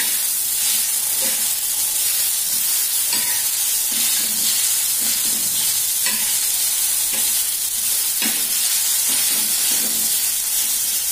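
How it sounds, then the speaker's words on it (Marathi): Tomatoes sauté with fried onion in a pan for egg curry: a loud, continuous sizzle runs throughout, broken by regular scraping strokes of stirring. "आता यात टोमॅटो टाकू आपण आणि थोडंसं परतून घेऊ"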